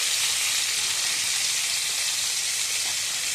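Onions fry in hot oil in a pan for a Tamil fish curry, giving a steady, bright sizzle that holds at an even level with no voices over it.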